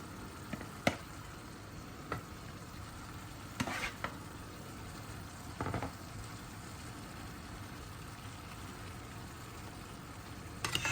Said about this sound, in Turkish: Şimdi biberlerimi ve patlıcanlarımı karışık bir şekilde boşaltıyorum.